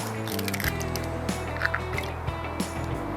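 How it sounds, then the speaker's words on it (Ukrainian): Eggs are cracked into a bowl in a home kitchen, with a few sharp close taps and wet squishes over a steady low hum and no talk. "Тепер беру другу миску, вибиваю туди яйця"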